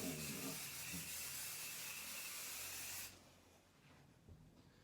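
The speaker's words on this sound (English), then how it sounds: "for this part that wasn't attached and get this sprayed down" A spray bottle mists fabric while a quilt is being made, giving a steady, close hiss for about three seconds that stops abruptly, followed by quiet handling sounds.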